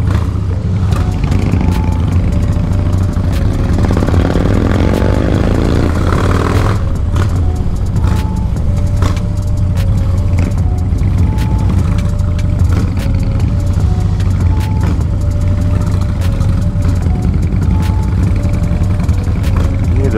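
A 2007 Harley-Davidson Road King Police motorcycle engine, newly restored, rumbling loudly and steadily, with pitch shifting as it revs and shifts gears over twenty seconds.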